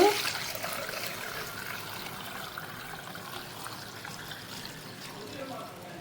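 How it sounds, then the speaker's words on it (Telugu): Water trickles and pours steadily through a strainer close by, a soft, continuous liquid sound that starts with a brief splash and then eases off. "చల్లారిన తర్వాత వడపోసుకోండి అమ్మా నీళ్ళు"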